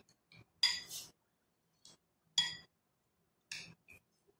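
A spoon clinks against a bowl while spicy chickpea chaat with finely chopped ingredients is stirred, giving a few separate bright scraping taps with quiet pauses between them.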